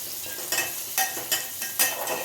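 Ridge gourd sautéing in a pan, a steady close sizzle broken by four sharp scraping stirs about half a second apart, with no talk.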